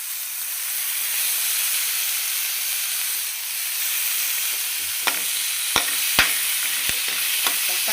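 Tomatoes sauté in a pan for a cauliflower chicken gravy, a loud continuous sizzle with sharp spoon knocks and scrapes toward the end.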